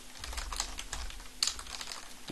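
A quick, close burst of computer keyboard typing enters a command in a Linux shell, the keystrokes tapping out rapidly and evenly with one sharper click partway through.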